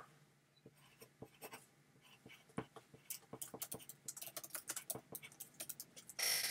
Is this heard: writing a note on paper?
yes